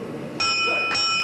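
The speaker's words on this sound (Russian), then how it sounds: "Гонг." A metallic gong strike at the start of a kickboxing tournament rings out loudly with sustained bright tones, struck again shortly after, over a noisy room background.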